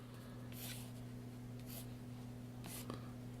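A pencil sketches an ear on paper in quiet bursts of soft scratchy strokes, three or four short passes, faint and close over a steady low electrical hum.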